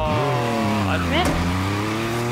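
A car in Forza Horizon slides across the finish line, its steady engine drone joined by a brief rising tire squeal and skid, with a voice briefly calling out over the top.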